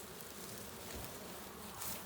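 Honeybees in a backyard beehive named Ostia, giving a faint, continuous, even buzzing hum from many insects at once, with no talk over it.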